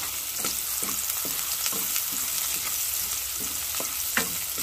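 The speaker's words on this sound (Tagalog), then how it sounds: "ginisa ko na yung bawang" Garlic sautés in rendered pork fat in a pan, giving a steady, loud sizzle and frying hiss throughout, broken by faint scraping taps as it is stirred.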